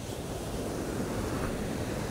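Steady wash of sea waves at the shore where fishermen set out, a continuous broadband roar with wind noise pressing on the microphone throughout, no voices.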